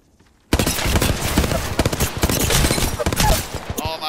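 Sustained rapid gunfire rattles through a competitive ranked video game match, a dense, loud, close burst of shots that starts abruptly and runs almost unbroken for several seconds.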